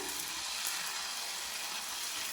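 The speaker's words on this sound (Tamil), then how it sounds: "தோசைக்கு மாவு ரெடி ஆயிடுச்சு தோசை ஊற்றிடலாம்" Dosa batter sizzling steadily on a hot pan, a dense continuous frying hiss with no talk, close and even throughout.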